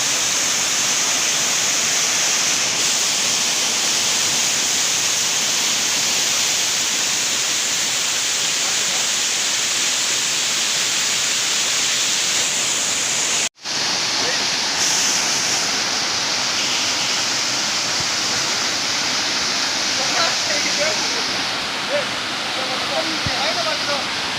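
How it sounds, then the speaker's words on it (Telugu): A waterfall in Kadapa roars as a loud, continuous rushing close by, steady for the whole stretch apart from one brief cut, with no talk over it. "మనం వచ్చేసాం ఇంకా వాటర్ ఫాల్స్ దగ్గరికి"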